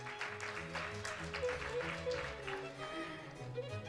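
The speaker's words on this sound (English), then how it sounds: "Let's welcome her with a big round of applause." Audience applause at a biotech summit as a speaker is welcomed to the stage, a fairly faint, steady clapping from a crowd heard under background music or tones.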